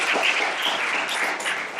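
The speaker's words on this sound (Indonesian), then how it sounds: "boleh dong tepuk tangannya untuk Ustazah kita" An audience at a book discussion event applauds a female Islamic teacher, producing a steady wash of mid-distance clapping from many hands that holds evenly for a short stretch, with no talk.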